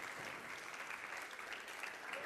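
An audience at a live property-expert panel event in London applauds steadily as the panelists are called up, a dense, even wash of clapping with no clear pauses.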